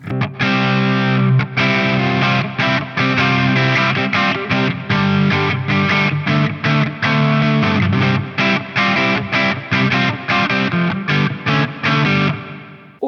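Distorted electric guitar played through a Neunaber Expanse reverb pedal with heavy reverb, loud sustained strummed chords chopped in a rhythmic pattern, washing together and ringing out at the end, no voices.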